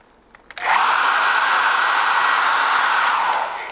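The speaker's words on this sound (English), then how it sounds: "Just hit this with a hairdryer." A hair dryer switches on with a click and blows steadily and loudly on close-up, sealing the seams of a foam horn, a constant whirring rush that fades slightly at the end.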